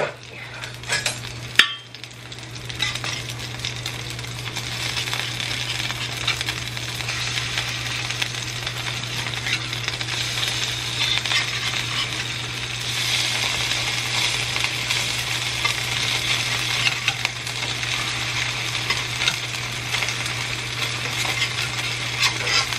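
Meat browning in a frying pan gives a steady, close sizzle and crackle that runs throughout under a constant low electrical hum, with one brief clatter near the start and no voices.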